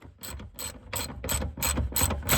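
A hand ratchet clicks in quick repeated strokes, about eight bursts in a steady rhythm, undoing the bolts that hold the rear seat of a Renault Clio 197; close and clear with no talk.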